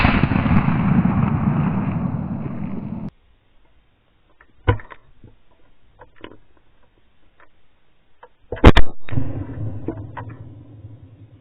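A sharp, loud gunshot crack during a forest grouse hunt, preceded by rustling and followed by scattered clicks and movement noise outdoors.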